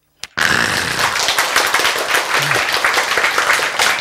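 A church congregation breaks into sudden, loud, close applause after a single sharp clap, many hands clapping densely and steadily for several seconds.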